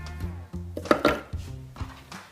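Bananas for banana-coconut ice cream are pulsed in a food processor: four or five short motor bursts in a quick, uneven rhythm, each a whirring hum with chopping clatter, close and moderately loud, with no talk.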